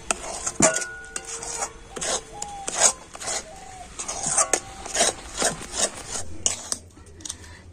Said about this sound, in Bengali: ঘিটা দিয়েও আবার কিন্তু কন্টিনিউ এইভাবে নাড়াচাড়া করব